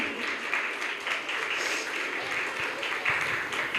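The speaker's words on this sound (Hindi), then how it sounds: "तो क्यों ना बजा दें उनके लिए हम एक बार फिर से जोरदार ताली" An audience at a school annual day event claps loudly for the children, steady dense applause with a slight swell, close and sustained throughout.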